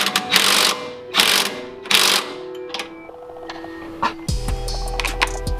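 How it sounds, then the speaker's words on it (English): Breaker bar ratcheting and straining against a stuck bolt on a Lexus IS300, with three loud bursts of clicking and scraping effort, followed by lighter metallic ticks and a heavy low clunk near the end. "We've been trying for 20 minutes with a breaker bar and already broke an extension to get this bolt off"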